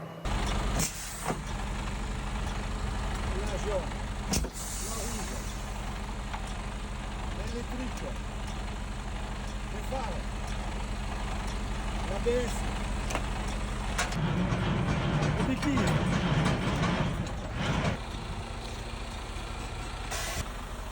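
Truck engine idling at night in a driver's cab, a steady low rumble running throughout with occasional clicks and a brief hiss, while people talk nearby.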